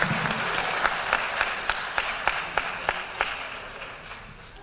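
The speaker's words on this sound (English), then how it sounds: "All right, so give him a round of applause." An audience at a winter and spring athletic banquet applauds, a moderate round of clapping with a few sharp individual claps standing out, gradually tapering off.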